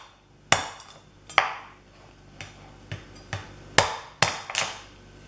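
Crab claws being cut and cracked for a Jaffna-style crab curry: a handful of sharp, close knocks and snaps at irregular intervals, with quiet pauses between.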